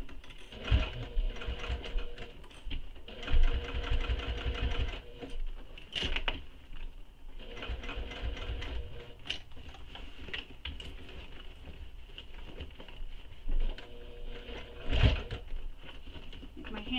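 Sewing machine top stitching along a tote bag seam, steady fast whirring in bursts that stop and restart, close and fairly loud, with a few handling taps between runs.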